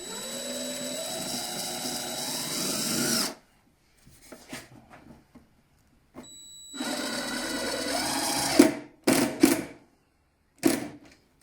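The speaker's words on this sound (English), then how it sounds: "I'll go around this side and put two screws in here." A power drill drives screws into the wooden wall of a hedgehog house, giving one long whirring burst, a pause with light handling clatter, then a second long run and a few short trigger bursts.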